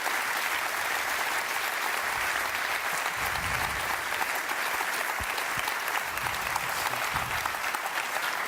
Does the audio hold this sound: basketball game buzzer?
no